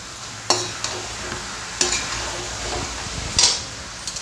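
Roasted brinjal paste and tomato get stirred into a spicy chicken gravy, a gentle simmering sizzle punctuated by three sharp clanks of a spoon against the pot amid continual mixing.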